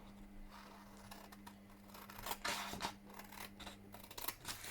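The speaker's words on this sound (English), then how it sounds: "I'm then going to take my scissors and I'm going to cut out." Close, quiet snips of scissors cutting through paper, several crisp cuts in uneven rhythm over a low steady hum.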